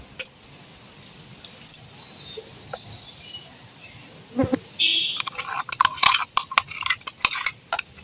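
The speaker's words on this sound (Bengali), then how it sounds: "এবার আমি আমের পাল্পটা দিয়ে দেব" Mango pulp goes into a bowl of powdered sugar with close clinks and scrapes of a spoon against the bowl, quiet at first and then busier as the mixing starts.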